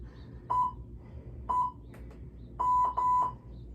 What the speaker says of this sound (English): we're gonna ignore the timer for a moment